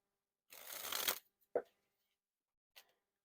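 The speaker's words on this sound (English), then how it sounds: "And this is from the dribble cards." Midnight Noc playing cards by Theory11 dribbled from hand in a loud, dense fluttering burst of about 0.7 seconds, followed by a couple of soft taps as the last cards settle.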